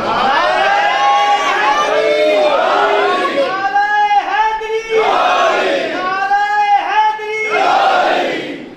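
A large crowd chants a religious slogan for Mola Ali in loud, rhythmic unison, with repeated rising-and-falling calls carrying a chanted cadence that stays strong throughout.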